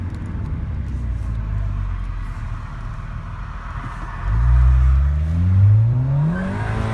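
A VW MK7 Golf R with downpipe, APR turbo muffler delete and resonator delete drones steadily at cruise from inside the cabin, then the exhaust swells loudly as the engine revs up through a gear, booming near and close.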